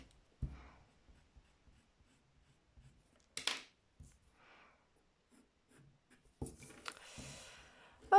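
Pencil strokes on paper while drawing parallel lines for a 3D "M" optical illusion, heard as sparse, soft scratchy bursts close by with quiet gaps between, ending in a denser stretch of rubbing strokes.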